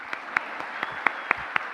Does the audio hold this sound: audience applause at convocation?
yes